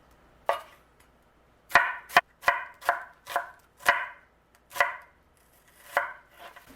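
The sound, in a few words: knife slicing onions thinly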